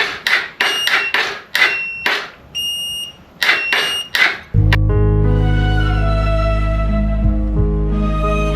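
A 125 Blazer with brake levers and no clutch is started: a series of sharp, rhythmic cranking bursts, then the engine catches and settles into a loud, steady, buzzing idle.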